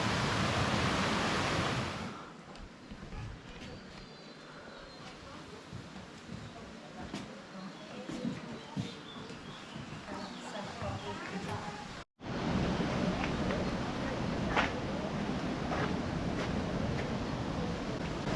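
Water rushes steadily past an old stone mill with a mossy roof and a wheel inside, set in a garden in North Wales. The broad noise stays continuous throughout, with a brief break near the middle, and people talk over it.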